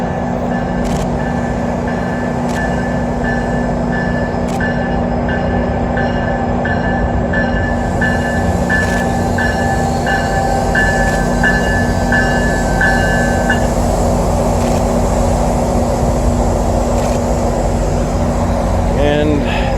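A train rumbles past nearby with a steady low roar and repeated high electrical tones, continuous throughout.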